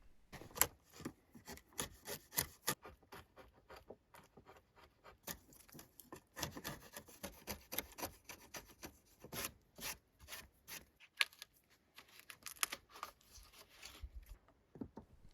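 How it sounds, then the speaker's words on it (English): A chisel is worked into wood while building an off-grid cabin. It gives quiet, close scraping and paring strokes in an irregular rhythm of short rasps with brief pauses, and no one speaks. "It's fun to run a chisel."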